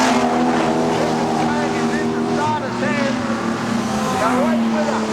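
Modified production race cars lap Kingaroy Speedway in a 2001/02 Modified Production Challenge Series race, a Commodore among them, engines droning loudly and continuously with rising and falling pitch as cars pass, under a commentator's voice.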